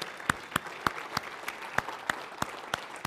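Slow, evenly spaced claps, about ten sharp strikes in a steady rhythm, nearby and fairly quiet, with no talking over them.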